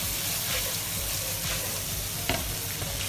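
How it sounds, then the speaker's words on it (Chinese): Crayfish sizzle loudly as they are stir-fried in a wok over high heat with red chili oil and spicy sauce, a continuous crackling fry with scraping stir strokes and one sharp clank near the end. "炒出红油和香味后，倒入小龙虾，大火翻炒均匀"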